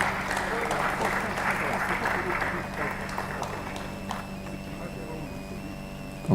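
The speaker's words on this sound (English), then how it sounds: "A round of applause for them." Audience applause at the 2025 UNILAG International Week opening ceremony, a dense wash of clapping from a large crowd that holds steady for several seconds and then thins out, with a low hum beneath it.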